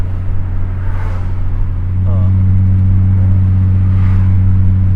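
Infiniti G35 sedan fitted with a Z1 Touring exhaust, heard from inside while driving: a steady low engine and exhaust drone with a constant buzzing vibration that swells slightly louder midway, with faint voices underneath.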